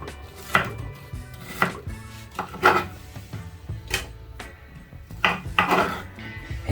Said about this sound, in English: So I'll start off by chopping my bananas into smaller chunks.